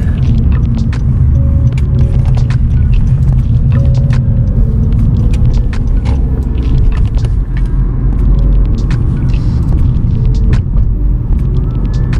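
A car drives slowly along a downtown road closed for Remembrance Day while its occupants look for parking: steady, loud in-cabin road rumble and engine hum throughout, with light scattered clicks and no talking.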